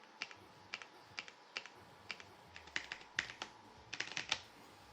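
Computer keyboard keys pressed in quick bursts of special-move inputs for Street Fighter III: Third Strike, sharp clicky taps in uneven clusters, close and alone.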